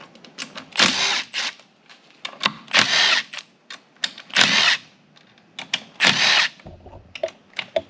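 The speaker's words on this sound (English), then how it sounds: "I think what I'll do is attempt to just remove the larger headed" Power tool bursts loosening bolts on a 1979 Ford C6 automatic transmission from a 4WD, four loud whirring runs of about a second each separated by short pauses and clicks, close up with no talking.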